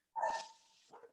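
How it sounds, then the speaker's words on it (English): A dog barks once from somewhere in the distance, a single sharp, moderately loud bark followed by a fainter, shorter second yelp a moment later. "Oh, I can definitely hear a dog."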